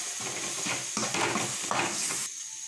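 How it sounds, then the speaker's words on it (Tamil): Masala sizzles and scrapes in a pan as it is sautéed for goat intestine curry, with steady frying hiss and rhythmic spatula strokes, close and fairly loud. "சேர்த்துட்டு இதையும் நல்லா வதக்கிப்போம்."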